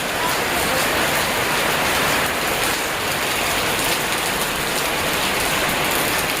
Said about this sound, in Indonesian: Nah, kok hujan lor.